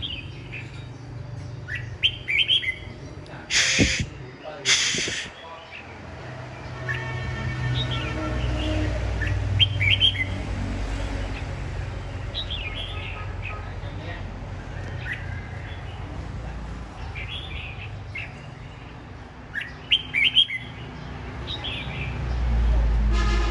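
A caged red-whiskered bulbul (chào mào) sings near a road, giving repeated bright chirps and short phrases through a 23-second stretch over a steady rumble of passing traffic.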